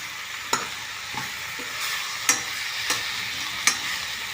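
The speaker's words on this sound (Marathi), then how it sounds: "तो मसाला घालायचा सर्व परतून घ्यायचं छान" Vegetables sauté in a pan with homemade garam masala, a steady soft sizzle broken by several sharp scrapes and clatters of a spoon stirring, close up, with no voices.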